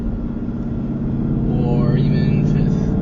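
Ford Mustang GT S550 cruising in fourth gear with a quiet exhaust, a low steady engine drone heard from inside the cabin, smooth and unchanging, with a faint rising whine toward the end.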